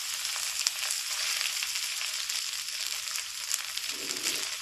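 A sabudana-free fasting (upvas) snack stir-fried over a full flame, with a steady, close, even sizzle of frying throughout, no talk, and a faint low scrape near the end.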